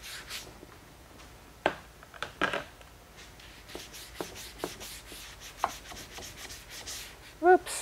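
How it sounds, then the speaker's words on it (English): A paintbrush scrubs and scrapes dried paint crud off a watercolor palette, quiet scratchy rubbing strokes broken by several sharper taps and clicks, close up with no talk. "I am picking up crud off my palette."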